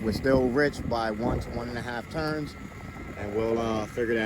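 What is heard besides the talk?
No everyday noise stands out behind the speech.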